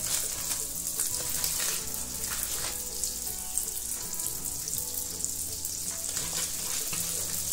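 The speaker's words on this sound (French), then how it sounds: "Dans une huile bien chaude," Twisted doughnuts fry in very hot oil with a continuous close crackling sizzle and bright spattering pops that run steadily throughout without speech.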